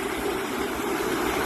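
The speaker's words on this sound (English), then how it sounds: "Watching this water run" Water running from a pipe toward a creek after a dry spell, a steady close rush with a pump working, continuous and even throughout with no talk.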